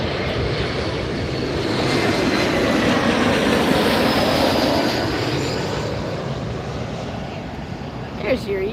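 Delta SkyWest Embraer E-Jet arriving at LAX, a loud, steady broadband jet roar that swells and fades across the whole stretch, with a brief higher whine near the end.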